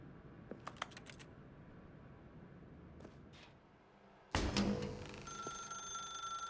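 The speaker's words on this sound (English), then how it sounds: "Now pick up the phone" A phone in The Stanley Parable game rings in a quick series of short bright chirps over a low hum, then a louder burst of game sound takes over.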